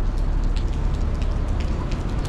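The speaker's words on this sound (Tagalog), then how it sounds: "Umuulan pa eh." Steady rain falling in Auckland's city centre, a dense, even patter with small droplet taps over a low, constant wash of noise and no voices.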